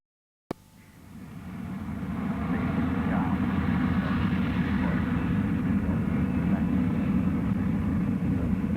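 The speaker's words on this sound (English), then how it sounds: "And she rose. Concorde accelerates." A Concorde supersonic airliner accelerates down the runway on takeoff, a deep engine roar that swells quickly from quiet and then holds as a loud, sustained rumble with a faint hiss over it.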